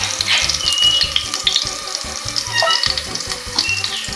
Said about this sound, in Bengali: রসুন, কাঁচা লঙ্কা, শুকনো লঙ্কা, এটা একটু ফ্রাই হয়ে গেলে শাকটা দেব।